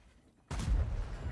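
A sudden heavy tank cannon blast in a video game erupts after a quiet moment, followed by a rumbling, decaying boom with low-end weight.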